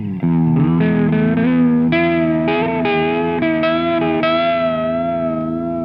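Electric guitar played through a chorus pedal with the mix knob turned up to a heavy wet blend, giving a wobbly, carnival-like shimmer to a run of sustained, overlapping notes that ring loud and steady without any talk.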